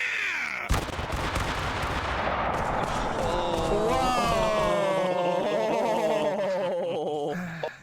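A musket volley fires in a video game: one sharp, loud crack of massed shots, followed by a long rumbling echo under shouting voices.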